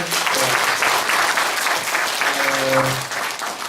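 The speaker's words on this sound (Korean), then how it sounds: "박수 한번 부탁드릴까요?" Audience applause fills the room after a Korean humanities lecture on healing, steady and dense from start to end, fading slightly at the close with a faint voice hint underneath.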